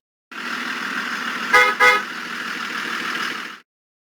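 A bus horn honks twice in quick succession over a steady engine and traffic rumble, fairly close.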